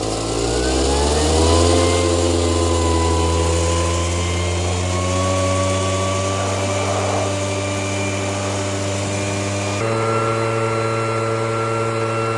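A blower drying a 2024 Harley-Davidson Road Glide motorcycle, a loud, steady motor whine with strong tonal harmonics that rises in pitch at first, then holds for a long continuous stretch before shifting slightly.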